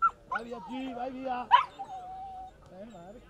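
Dog barking and yipping with whimpers in between, close and fairly quiet, mixed with a voice talking.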